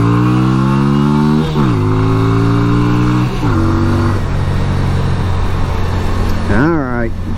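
A 1988 Yamaha Virago 250 motorcycle engine on a test ride, with a sticking throttle, revs in several loud steady surges that drop in pitch between steps, then gives a short sharp blip near the end.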